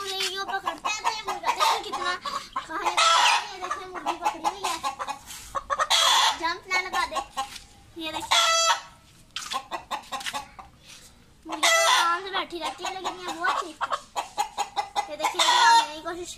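Aseel chickens cluck in quick bursts, some close and loud, with short pauses between flurries of squawking.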